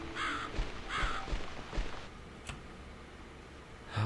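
A crow caws twice in quick succession inside the video game The Cat Lady, fairly near and clear, followed by a few soft knocks and quiet room tone.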